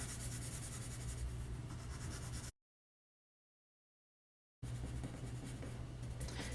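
Pencil scratching steadily across paper while shading tone for a sphere, a continuous dry rubbing stroke, close and fairly quiet, broken by a couple of seconds of silence midway.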